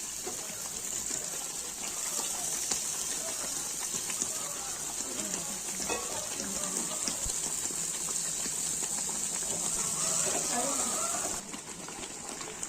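Fish curry paste sautéing in a pan, a steady loud hiss and crackle of frying that runs continuously throughout, with faint scattered clinks and a brief drop near the end.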